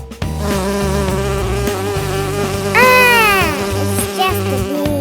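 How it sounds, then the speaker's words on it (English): A bee buzzes steadily throughout, a loud close drone with wavering pitch, set against a continuous musical backing track in a children's animal-sounds jungle setting. "It's just a bee."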